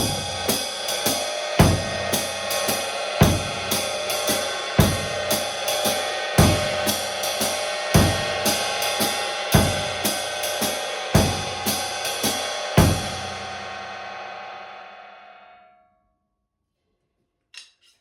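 A drum kit plays a steady three-beat jazz waltz swing groove, hi-hat ringing continuously over regular bass drum hits, then cymbals fade out to silence.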